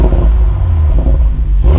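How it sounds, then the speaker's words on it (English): A Toyota GR Supra exhaust rumbles loud and close, with a low, throbbing engine note and an uneven crackle running through it during a brief burst of revving. "We get some crackles and pops."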